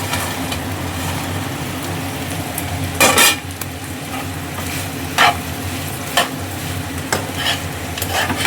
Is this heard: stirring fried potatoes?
yes